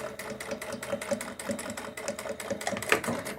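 A sewing machine stitching and backstitching a dress for a cloth rag doll, running in a quiet, steady mechanical whir with a fast rhythmic clatter.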